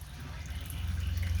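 Old engine oil draining from a Ferrari 360 during an oil change, a steady liquid pour with a low, rhythmic gurgling pulse that grows slightly louder toward the end.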